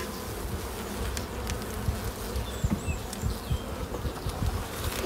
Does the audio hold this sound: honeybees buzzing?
yes